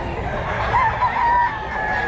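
Roosters crow in a rural setting in Bulacan, one drawn-out call standing out over a steady murmur of other fowl and background noise, fairly close and loud.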